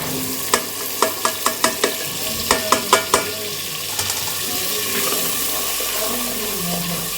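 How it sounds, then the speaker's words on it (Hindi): A spoon stirs a tomato, onion and green chilli paste into boneless chicken in a handi, with a quick run of rhythmic scraping knocks over a continuous sizzle that then settles into steady frying. "मिक्स करेंगे अच्छे से। इसकी अच्छे से पकाई करेंगे।"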